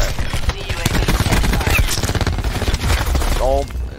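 Call of Duty gunfire goes off in rapid, close bursts with a dense, continuous crackle, and a voice talks over it.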